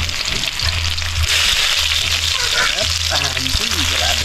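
Cooking oil sizzles loudly in a pan for crab adobo, a dense, constant crackle over a low steady hum, with someone talking partway through.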